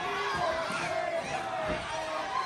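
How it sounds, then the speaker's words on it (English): A bloodthirsty crowd at an MCW independent wrestling show in Galena, Maryland, chanting and cheering steadily, a dense, fairly distant roar of many voices with rhythmic chant tones rising through it. "the bloodthirsty Galena crowd is chanting"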